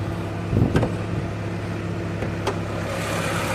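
A 1990 Honda Accord Maestro engine idles smoothly and evenly in the open engine bay, a steady low hum with a couple of faint clicks, close and without talk.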